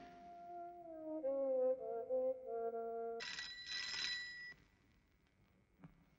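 Telephone bell ringing in an old Hindi film scene: a few seconds of steady electronic ringing tones that shift pitch, then a brighter bell-like burst, then quiet.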